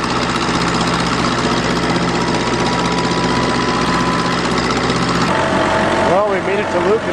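Tractor engine running while driving on the road, a loud continuous low chugging rumble with steady vibration that shifts in tone near the end, with a voice speaking over it.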